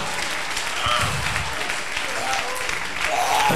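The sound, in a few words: audience applauding and cheering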